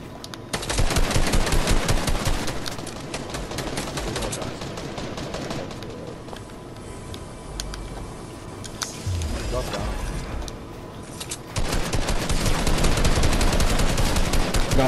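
Rapid drum gun fire in a Fortnite squad match, dense bursts of automatic shots that come close and loud, ease off in the middle, then return in long strings, with players talking throughout.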